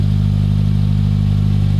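A 2018 Subaru WRX with an Invidia N1 race single-exit exhaust on 3-inch piping idles with a steady, deep, bassy drone, loud and close, with no voices.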